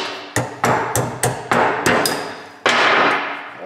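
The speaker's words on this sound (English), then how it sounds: "Sometimes whacking them with a hammer will actually break the ears off" A hammer strikes the U-joint ears on an aluminium driveshaft in about eight sharp, loud metallic blows at an uneven pace, each blow ringing briefly.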